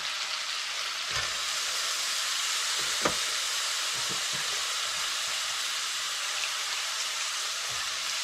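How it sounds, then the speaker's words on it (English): A steady, broad sizzle of masala curry paste frying in a pan with potatoes, with occasional soft clicks and taps of stirring. "So just about 2 minutes for frying the masala"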